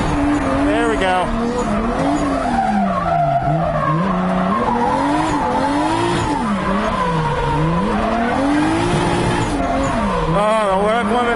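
A Nissan 240SX drift car with a big-turbo 2JZ engine screams at full revs, bouncing repeatedly off the rev limiter in rapid stuttering bursts amid loud tire squeal, close and constant, while someone talks over it.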